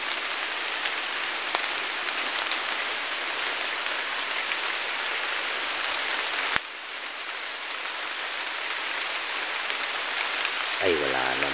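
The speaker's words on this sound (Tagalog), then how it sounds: "Lumakas na yung ulan." Heavy rain pouring down outdoors in a constant dense hiss, loud and close, steady throughout with a brief dip midway.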